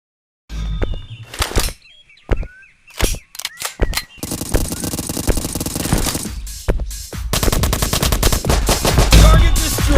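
Assault rifle fire in the Dude Theft Wars multiplayer game: short bursts and single shots early on, then a long, loud, dense run of automatic gunfire that continues to the end without talk.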